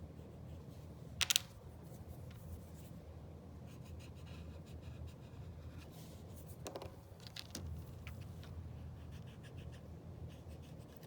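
A pencil sketches a nose on paper, giving soft continuous scratching strokes close up, with a couple of sharper taps or shuffles along the way.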